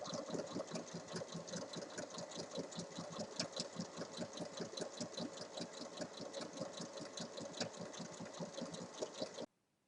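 A sewing machine stitches fabric pieces placed right sides together for a small drawstring pouch, running in a fast, steady mechanical chatter for about nine seconds before stopping abruptly.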